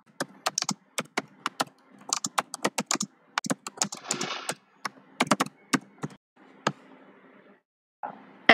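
Keys clack on a computer keyboard as JavaScript code is typed, in quick irregular bursts of sharp close taps with short pauses and a longer gap near the end, no voices.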